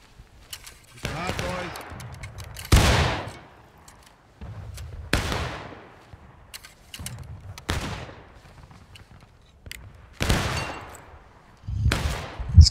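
Musket volleys in the War of Rights video game, a battle at Piper's Farm: repeated sharp, loud reports in irregular bursts across the stretch, some near and some farther off, with brief pauses between them.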